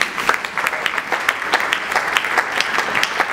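Audience in a church-style gathering applauding to acclaim the Lord, a close, lively burst of many hands clapping in rapid, uneven rhythm, steady throughout with no talk over it.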